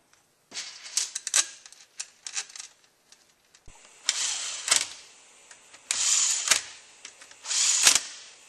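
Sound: installing bolts on a transmission valve body

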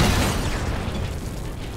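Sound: satchel charge explosion in video game

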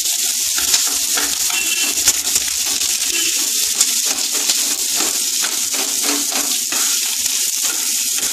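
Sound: dried and slit green chillies frying and stirred in pan

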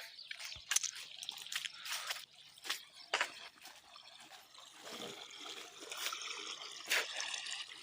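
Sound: irrigation water flowing in field

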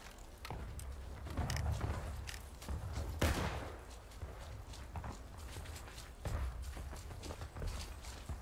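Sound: gunfire in a video game war skirmish

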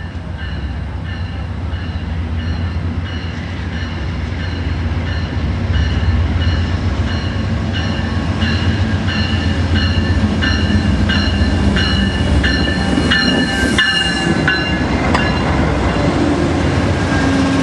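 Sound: Coast Starlight passenger train crossing a trestle

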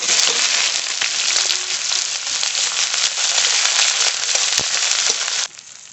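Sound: frying cumin, bay leaf, dried chili, chopped onion in oil

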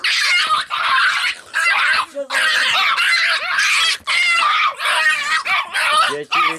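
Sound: small dog barking

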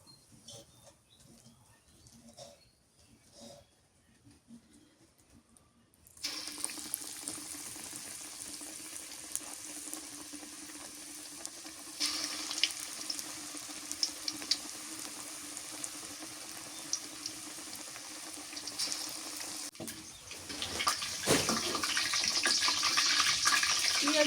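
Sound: onion fritters frying in oil

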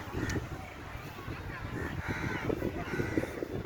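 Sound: birds, likely crows, calling in a park in Andaman

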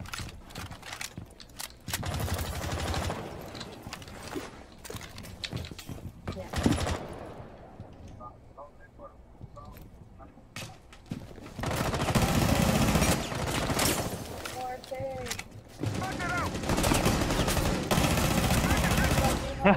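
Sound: gunfire in a video game

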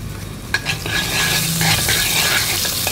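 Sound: sautéing salt in coconut oil

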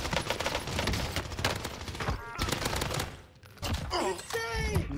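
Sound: gunfire from shooting in Call of Duty video game

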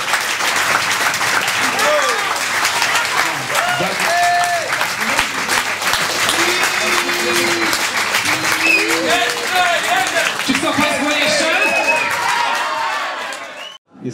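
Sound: audience applause at vinyl premiere event

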